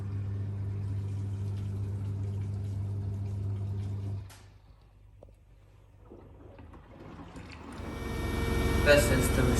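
A Blomberg RapidJET 9kg washing machine runs its rinse, a steady low motor hum giving way to water filling and sloshing that grows louder toward the end, with a person talking over it.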